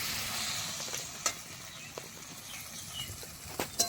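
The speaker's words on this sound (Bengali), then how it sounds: "যতক্ষণ না ভাজা হবে অপেক্ষা" Taro and potato pieces fry with salt and turmeric, giving a soft, steady sizzle punctuated by a few sharp clicks of a spatula stirring nearby.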